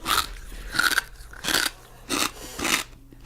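An animal chews and crunches in about five loud, close bursts, each a gritty, crackling bite with short pauses between.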